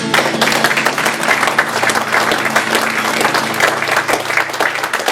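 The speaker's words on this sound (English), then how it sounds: "Well done, give yourselves a round of applause." Audience at a 2008 community variety show at a local centre applauding, a full, continuous burst of clapping from a hall crowd, loud and close, with little talk over it.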